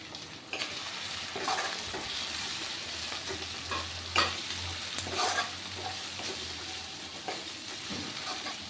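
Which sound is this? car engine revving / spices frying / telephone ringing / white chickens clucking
spices frying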